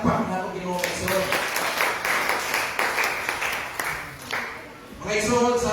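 A church congregation at a worship service claps together in a sustained, moderately loud round of applause. Someone speaks briefly before and after the clapping.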